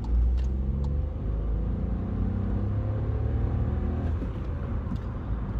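Skoda Fabia 1.0 TSI with the 110 hp engine pulling away under acceleration, a steady mid-pitched engine drone with rising tone heard from inside the car, no talk over it.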